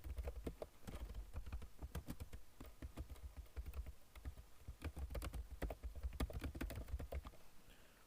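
Fingers type on a computer keyboard, entering text into a form cell. Quiet, quick, irregular key clicks run continuously with small pauses, close by and with no talking.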